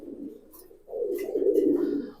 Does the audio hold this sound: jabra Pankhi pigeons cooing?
yes